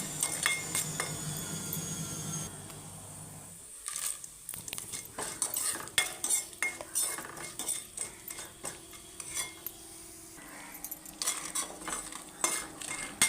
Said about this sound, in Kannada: ಈಗ ಮಸಾಲೆ ಅಂದರೆ ಏಲಕ್ಕಿ, ದಾಲ್ಚಿನ್ನಿ ಇವುಗಳನ್ನೆಲ್ಲ ಹಾಕಿಬಿಟ್ಟು